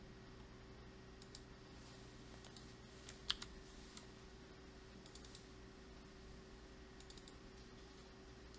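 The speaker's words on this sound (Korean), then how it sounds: "제가 새로 소스코드 파일을 만든 다음에 조금 전 예제를 한번 타이핑을 해볼게요" Steady typing on a computer keyboard while a Python source file is written, with soft scattered key clicks and one sharper keystroke over a low constant hum, no voices.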